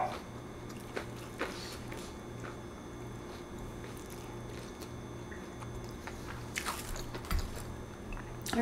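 Crisp bites and chewing of crunchy beef croquette and assorted tempura, close and loud, with sharp crunches clustering near the end over a faint background hum.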